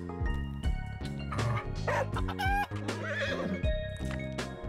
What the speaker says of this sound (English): So we have a horse, a dog, and a chicken.